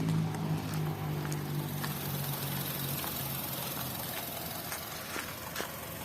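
A 1.3-litre engine in a 2010 Honda City with manual transmission idles quietly and steadily up close, a low smooth hum with no talking over it.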